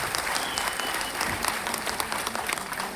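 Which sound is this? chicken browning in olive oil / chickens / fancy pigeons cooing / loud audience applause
loud audience applause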